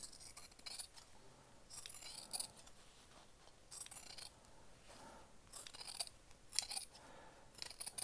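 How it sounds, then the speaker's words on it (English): Scissors snip threads off a sewn corner of fabric for Thai wrap trousers, with a string of quiet, crisp cuts in irregular clusters and no talking. "cut those threads off"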